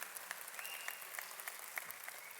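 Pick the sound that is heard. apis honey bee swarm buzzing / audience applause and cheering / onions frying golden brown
audience applause and cheering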